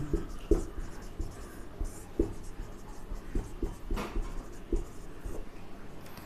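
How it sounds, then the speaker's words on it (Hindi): A teacher writes an example during a Hindi chemistry lesson on sublimation: quiet scratching strokes broken by sharp taps at irregular intervals, in a quiet room with no talk. "जैसे कपूर ले लिए, अमोनियम क्लोराइड हम लोग लिख सकते हैं।"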